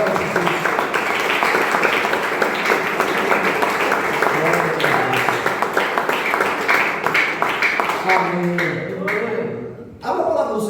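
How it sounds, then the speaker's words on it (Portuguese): Church congregation applauding together during a worship service, a dense, loud and sustained wash of clapping that carries on for several seconds before thinning out near the end. "Então aplauda o Senhor por tudo isso."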